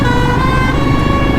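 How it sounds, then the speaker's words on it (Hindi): A vehicle horn blares on a highway near Sitarganj during a long motorcycle ride. It is one loud, sustained, tonal blast held steady for the whole moment, close by and with no talking. "अच्छा, हॉर्न सुना आपने?"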